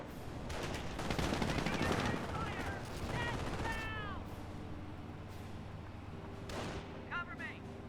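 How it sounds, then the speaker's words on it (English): MG42 machine gun firing in the World War II strategy game Company of Heroes, bursts of rapid gunfire amid distant battle explosions and chirping game sounds, moderately loud then tapering off. "We do have now the MG42 set up over here, getting some damage."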